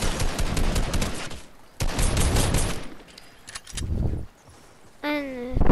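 Bursts of rapid gunfire from a shooter video game, loud dense volleys in several stretches with brief gaps, followed near the end by a short rising electronic tone.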